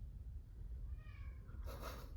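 A house cat meows softly in a quiet room during a polymer clay crafting session, a short rising call near the end of a faint, otherwise still background.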